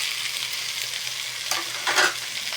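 Garlic fried rice is stir-fried in a pan. A steady close sizzle runs throughout, with a few scraping stirs of the utensil near the end.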